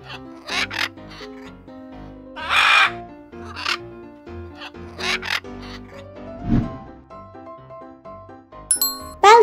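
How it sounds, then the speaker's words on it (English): Macaw parrot calling: several harsh, loud squawks come through between soft chiming tones and light background music, with no speech. "Colorful parrots native to Central and South Africa, macaws are highly intelligent and can mimic human speech."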